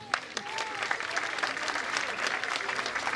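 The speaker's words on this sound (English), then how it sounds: "Let's clap for him." A graduation audience applauds steadily for a top student receiving a certificate, dense clapping from a crowd filling the room at moderate volume.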